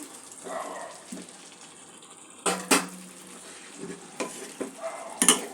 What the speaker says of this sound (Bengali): সব উপকরণগুলো মিক্স করে নেব।